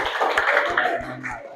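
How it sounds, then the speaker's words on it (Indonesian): A small group claps briefly for a group presentation in a classroom setting, a short burst of close, uneven hand claps. "Tepuk tangan ya."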